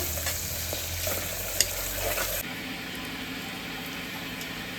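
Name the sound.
greens frying in tempering oil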